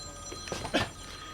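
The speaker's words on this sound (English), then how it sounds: "And as usual, you get a phone call." A telephone at a sawmill rings in one short electronic burst lasting about a second, fairly close and clear over a quiet background.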